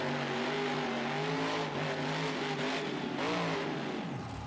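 A monster truck engine in the BeamNG video game revs loudly and repeatedly, its pitch climbing and falling in several surges, with a final sweeping rise and drop as it launches, alone without voices.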